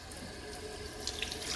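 Warm water runs steadily from a tap into a kitchen sink, a continuous close hissing rush with faint splashes, no voices.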